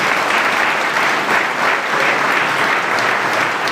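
A crowd applauds at the inauguration of a table tennis hall: dense, loud, continuous clapping at an even level throughout, with no voices standing out.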